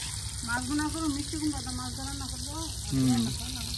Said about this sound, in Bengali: এদিকে প্রথমে মাছ ফ্রাই করে নিতেছে